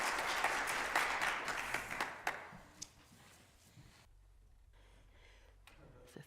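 Applause at a Sunday church celebration service fades away, a few last claps and faint murmurs trailing into quiet room tone, soft overall.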